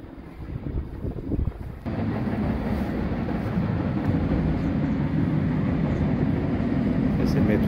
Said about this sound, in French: C'est le métro que j'ai pris ce matin.